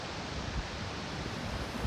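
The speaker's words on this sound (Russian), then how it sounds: "Пляж, океан." Ocean waves at the beach in Bentota, Sri Lanka, a steady broad surf roar with faint low wind rumble, continuous and fairly close.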